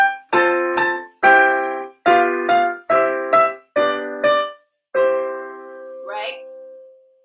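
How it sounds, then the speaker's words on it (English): Twinkle Twinkle Little Star is played on piano in a major key, with crisp paired chord strikes in a steady rhythm ending on a longer sustained chord, close and clear. "if I was to play Twinkle Twinkle Little Star in a major key"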